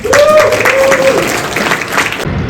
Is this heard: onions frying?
no